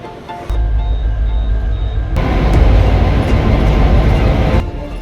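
Kuranda Scenic Railway train from Cairns starts up with a low rumble that swells into a loud, steady roar of rolling wheels and carriage noise, then drops back slightly at the end.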